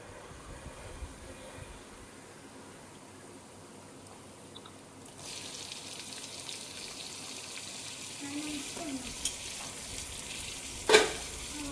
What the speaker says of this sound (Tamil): தக்காளி போட்டு வதக்கிட்டு இருக்கும்போது என் பொண்ணு வந்து நான் வதக்குறேன் அப்படின்னு சொல்லி வதக்கிட்டு இருக்காங்க